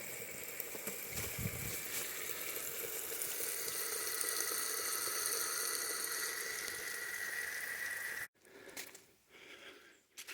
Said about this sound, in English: This water is literally coming out of the moss